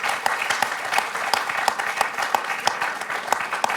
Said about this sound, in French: Et Benoît vous applaudit, Daniel.